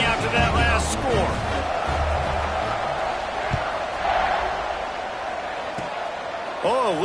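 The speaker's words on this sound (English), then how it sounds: "this crowd is buzzing after that last score" A football stadium crowd in Louisville keeps up a steady roar after a touchdown, filling the background under a play-by-play announcer's voice.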